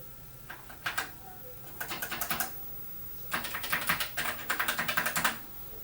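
Keys tapped on a Xitron XPT II terminal keyboard, crisp plastic clicks in several quick bursts of rapid presses separated by short pauses, close and fairly quiet with no talking.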